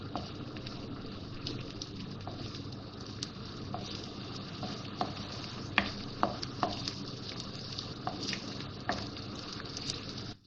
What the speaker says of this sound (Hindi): ये मैंने 4 टेबल स्पून ऑयल लिया है, ऑयल इसमें ज़्यादा नहीं जाएगा। और अब ये प्याज डाल रही हूँ इसमें।